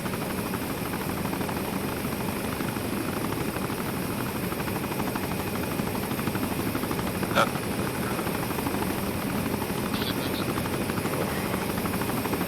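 A military aircraft lifts off in a video game, its engine roaring with a dense, steady rotor-like drone throughout, and a brief sharp click cuts in partway.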